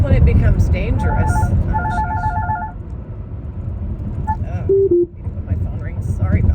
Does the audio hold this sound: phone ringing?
yes